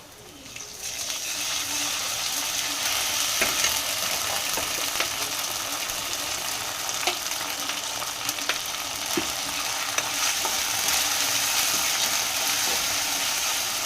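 Ginger and garlic sizzle and fry steadily in hot oil with browned onions for a chicken masala, a continuous close crackle with occasional stirring clicks, with no talking.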